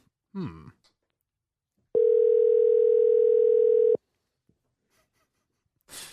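A steady electronic dial tone hums alone for about two seconds, a single unbroken pitch, with faint brief noises before and after in near silence.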